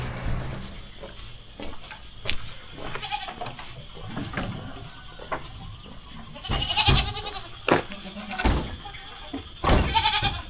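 Several goats bleat repeatedly at close range while being fed bananas near Lake Maninjau, Sumatra, overlapping cries rising and falling over a busy background with occasional thumps.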